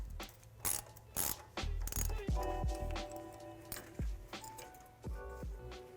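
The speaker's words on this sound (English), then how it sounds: "we're going to use a 10mm socket as well as a 12 to disconnect some of these brackets holding our brake lines" Ratchet with a 10 mm socket loosening a brake line bracket bolt on a 2005–2020 Toyota Tacoma front suspension: several bursts of rapid clicking pawl ratcheting, close and fairly loud, separated by short pauses and metallic taps.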